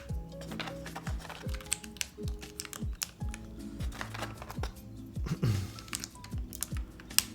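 Rapid typing on an Envoy keyboard fitted with dual-shot keycaps, a steady run of close, crisp key clicks and clacks with uneven rhythm, alone without talk.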